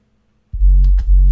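A simple Nexus synth bass line, compressed with Camel Crusher, plays loud and close after brief silence, two sustained low notes with a short break between them.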